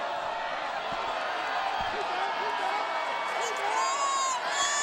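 Visiting fans at a 2013 Minnesota 6AAAA high school football state final, Benilde-St. Margaret's vs DelaSalle, roar steadily in a large stadium, a dense continuous crowd din with a voice talking over it.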